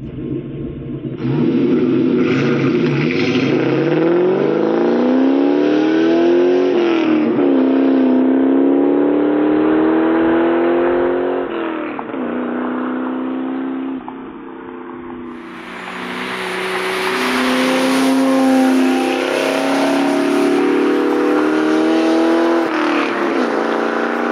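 A 1999-2004 Ford Mustang 4.6L V8 with an X-pipe and Bassani catback exhaust revs hard with a deep, throaty rumble, rising and falling through several long pulls, then a brighter, raspier roar toward the end.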